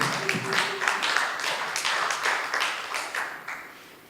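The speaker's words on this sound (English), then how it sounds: "applause for Nate motherfucking Nickel." Audience clapping at an open mic night in Camp Bar, a smaller crowd whose individual claps stand out as a quick, uneven patter, fairly close and loud, tapering slightly toward the end.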